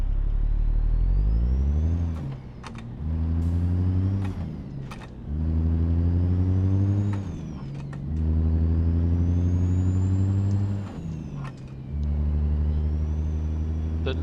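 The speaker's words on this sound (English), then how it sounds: "The noise you're hearing in the cab or W900 interior sound effects from Z mods." Inside the cab of a Kenworth W900 in the game American Truck Simulator with a sound mod, the engine rises in pitch again and again through the gears. Brief pauses and shifter clunks come between pulls, close and steady with no talk.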